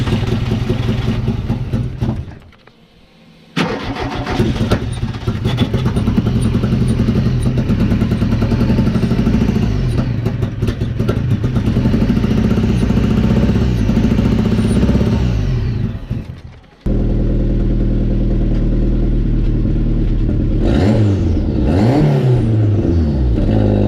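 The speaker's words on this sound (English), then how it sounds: "the engine should start" A Volkswagen Mk1 Golf with a converted 1.8T 20V engine cranks and catches, then revs hard and settles to a rough idle, cuts out briefly, restarts and revs again, loud and close throughout.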